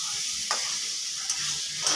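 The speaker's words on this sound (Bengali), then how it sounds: "দেখো ডিম দেওয়া হয়ে গেল। এবার কষিয়ে নিয়ে" Fried eggs being stir-fried into a curry masala, the pan hissing in a bright, continuous sizzle with a few sharp scrapes of the spatula, close up and without speech.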